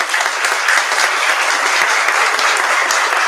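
An audience at a training week for school administrators gives a round of applause, dense steady clapping throughout.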